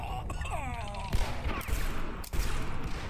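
Gunfire in the first-person shooter game Chambers: The Outlaw, a rapid burst of shots followed by several heavier blasts and impacts, dense and continuous, with someone speaking over part of it.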